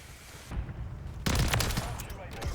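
A gun in a video game fires in a rapid burst of loud, close shots, preceded by quieter noise, with a voice talking over part of it.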